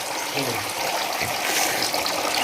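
Water trickles and splashes steadily through a small home-made fountain, a continuous close-up flow with no break.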